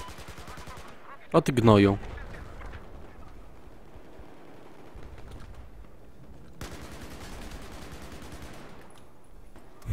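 Battlefield 4 night operations gunfire, a short loud burst of rapid shots near the start, followed by quieter scattered firing and ambient noise, with someone speaking briefly.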